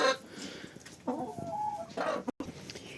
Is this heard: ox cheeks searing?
no